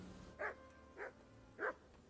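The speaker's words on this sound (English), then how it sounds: "There's a dog." A dog in the medieval video game Kingdom Come Deliverance barks three times at a steady pace, moderately close but quiet, over a faint ambient background.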